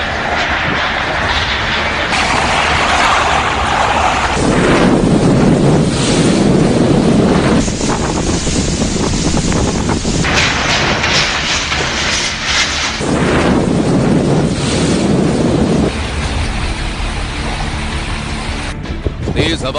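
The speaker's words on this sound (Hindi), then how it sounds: "तेज हवाओं के साथ जोरदार बारिश की तस्वीरें महाराष्ट्र के रायगढ़ की हैं" Strong gusting wind with heavy rain from Cyclone Nisarga in Raigad, Maharashtra, roaring as a loud, continuous broadband rush that surges and eases in waves throughout.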